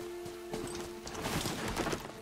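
Horse hooves clip-clopping in Horizon Zero Dawn, a quick run of muffled hoof beats growing busier over a steady humming game backdrop.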